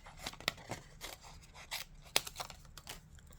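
Cardstock being scored and cut for a handmade card, a quiet series of short crisp snips and scraping strokes at an irregular pace, close by with no talking.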